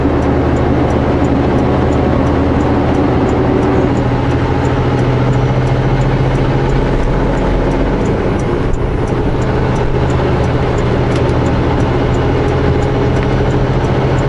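A vehicle drives along a snowy highway between Kaleden and Keremeos, its engine and road rumble loud, steady and continuous throughout.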